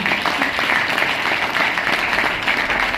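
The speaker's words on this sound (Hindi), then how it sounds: "मैं चाहती हूँ किसी सर के लिए आप एक बार तालियां बजाएं।" An audience applauds in a steady, dense wash of clapping that stays loud and even throughout, with no other voices standing out.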